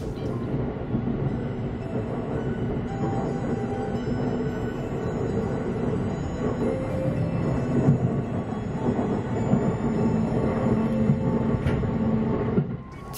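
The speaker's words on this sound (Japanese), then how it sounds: "列車は敦賀駅に到着をいたします。" A 681 series Thunderbird limited express train on the Hokuriku Main Line running steadily as it nears Tsuruga Station, a continuous loud rumble of wheels and motor hum without a break.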